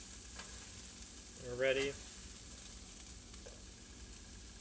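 Vegetables from a microwave package fry in a pan for fried rice, giving a steady low sizzle throughout with one brief louder stir or clatter midway and a few faint spoken words.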